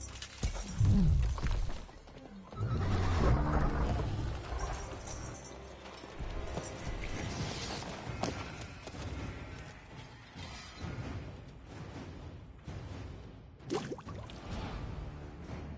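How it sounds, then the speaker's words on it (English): A horse gallops off in The Witcher 3. Loud hoofbeat-like thumps come first, then a steady wash of game sound and movement continues beneath. "there goes his horsey"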